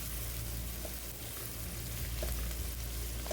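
Bay leaves and peppercorns stirred in a hot pan for chicken tinola, a steady, quiet sizzle and crackle of frying with soft stirring, no talking.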